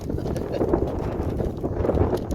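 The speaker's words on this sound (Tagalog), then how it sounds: "Ang lakas ng hangin ngayon." Steady, buffeting wind roars across the microphone, a constant low rumble with gusty bursts throughout.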